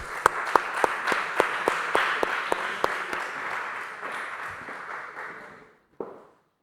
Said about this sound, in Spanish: Les pedimos un cálido aplauso para recibir a nuestros panelistas.